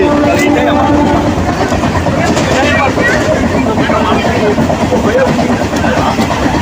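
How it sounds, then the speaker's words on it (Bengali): Steady rumbling of a local train moving fast, from Howrah to Digha, a continuous dense roar with rattling, loud and unbroken throughout. "ট্রেন ভালো স্পিডেই চলছে"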